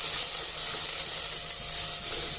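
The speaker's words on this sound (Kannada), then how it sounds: "ಚೆನ್ನಾಗಿ ಫ್ರೈ ಆಗಲಿ." Two finely chopped medium onions fry in a pan for a crab pepper masala, a steady close sizzle with faint stirring throughout.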